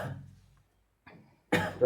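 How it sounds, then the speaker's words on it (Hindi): A teacher with a mild illness coughs a few times during a physics lesson, two short bursts separated by a pause and then a louder one close to the microphone. "थोड़ा तबियत खराब है, इसलिए थोड़ा खांसी आ गया है"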